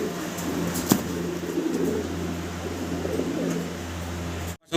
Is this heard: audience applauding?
no